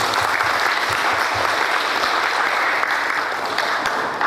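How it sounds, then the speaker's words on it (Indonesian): Audience applause at a Facebook marketing workshop launch in Serang, a steady dense clatter of many hands clapping that fills the room for the whole stretch. "Tepuk tangan buat kita semua."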